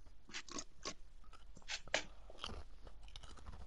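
Close, loud crunching of chips, several sharp crisp bites and chewing in quick irregular succession with no talking.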